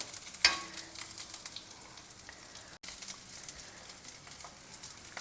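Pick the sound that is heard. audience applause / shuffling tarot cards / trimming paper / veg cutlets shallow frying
veg cutlets shallow frying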